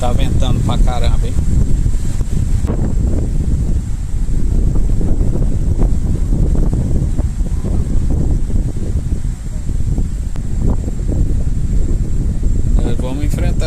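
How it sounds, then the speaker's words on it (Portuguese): Strong wind buffets the microphone at a beach campsite in Prado, Bahia, Brazil, a steady loud low roar lasting throughout while people talk over it. "Tá ventando pra caramba, hein?"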